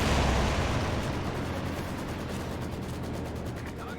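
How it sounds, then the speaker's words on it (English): A strafing run in Company of Heroes 2, heard as a loud, dense roar of rapid gunfire and explosive bursts that starts strongly and keeps rumbling steadily, with no talk. "And now we've got the single strafing round coming on in."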